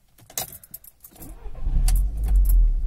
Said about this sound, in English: If I now try and start it, the vehicle will start and cut out.